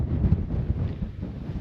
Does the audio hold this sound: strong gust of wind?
yes